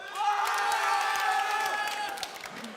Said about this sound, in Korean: 이게 남자들만 박수 치고 있는데.